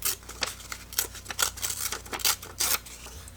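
A paper recipe card for saffron buns being torn in half, heard as a close series of ragged ripping bursts with short pauses between them, fairly loud and with no talk.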